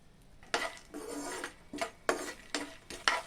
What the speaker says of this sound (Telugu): అదే పాన్లో మనం తీసి పెట్టుకున్న తినే శనగపప్పును కూడా వేసి వేయించుకోవాలి.